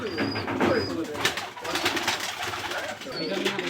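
Imamdin pigeons coo repeatedly at close range, soft throaty calls layered over a busy loft background with other birds.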